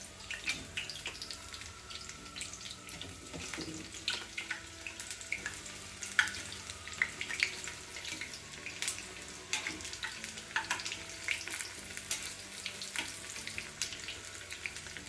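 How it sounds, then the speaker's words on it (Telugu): Tamalapaku bajji, betel-leaf fritters, fry in hot oil with a steady, close sizzle and hiss dotted with crackles and pops throughout, no talk over it. "రెండు సైడ్లా కూడా మంచి కలర్ వచ్చేదాకా వేయించుకోవాలి."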